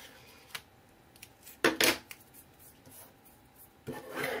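Scissors trim a paper file folder in short bursts of crisp snipping and rustling paper, with a louder double cut in the middle and another snip near the end, close and fairly quiet overall.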